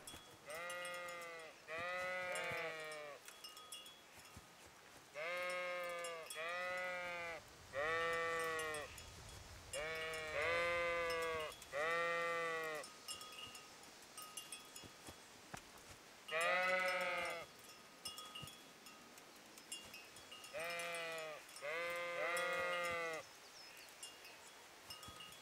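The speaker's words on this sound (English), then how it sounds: "Poor sheep trying to somehow get out, get away." Sheep in the video game Kingdom Come bleating in a series of loud, close, wavering cries, about a dozen calls in clusters with short pauses between them, over a faint background hum.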